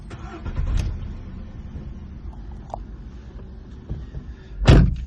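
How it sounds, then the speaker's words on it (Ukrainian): A 2012 Volkswagen Polo engine turns over and catches, then settles into a steady idle hum, with a door-like thump and a louder rev near the end. "Автомобіль заводиться з півоберта. Робота двигуна рівна"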